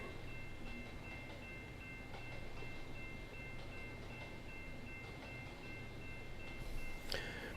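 A DPU train locomotive in Trainz 22 rumbles quietly with a steady low drone and faint rail noise, with a brief louder burst near the end.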